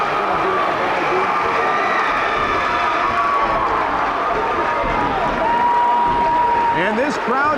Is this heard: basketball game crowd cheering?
yes